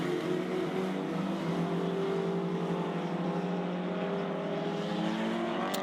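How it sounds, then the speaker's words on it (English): Drift cars circling in a tandem drift competition, engines droning and revving in a continuous, fairly loud roar with tire noise, heard from trackside. "They're going to drift the hairpin."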